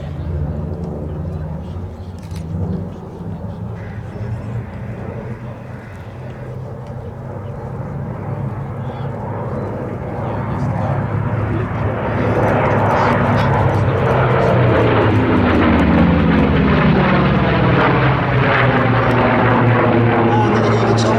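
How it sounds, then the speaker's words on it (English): A WWII navy fighter roars in on its running-in pass at the Sywell air display. Its propeller engine noise builds steadily from a distant drone to a loud, close roar, with a commentator speaking over it. "as you can see from the aircraft running in now."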